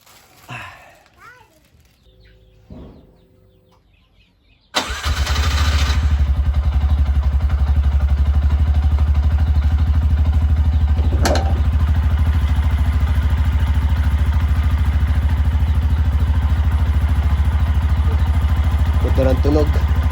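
Brief child chatter and light clatter, then a tricycle motorcycle engine fires up after an oil change and settles into a loud, steady, close running drone that continues to the end.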